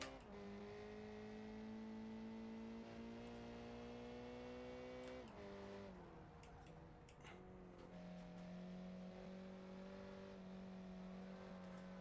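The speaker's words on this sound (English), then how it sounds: "The engine sounds like a chainsaw." A GT1 super hatch race car engine in a racing video game, a buzzy high-revving drone that holds steady pitch, drops briefly at a gear change, then settles again, continuous and quiet with faint ticking.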